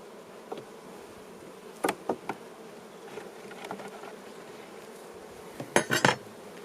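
Honey bees hum steadily on a hive frame during an inspection, a low continuous buzz close by, broken by a few sharp clicks and knocks of hive tools and frames.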